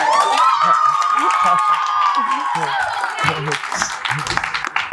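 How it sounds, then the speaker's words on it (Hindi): A room of students greets their teacher at a surprise birthday celebration with loud clapping, cheering and high shouted whoops, one voice rising then fading into scattered claps and chatter. "जोरदार तालियों से स्वागत सर।"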